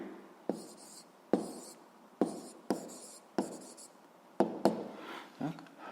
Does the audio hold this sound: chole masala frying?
no